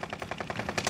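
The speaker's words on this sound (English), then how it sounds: "Oh, he shot my claymore." Rapid burst of video game gunfire, a steady string of about nine sharp shots in one second, loud and close, with no voices.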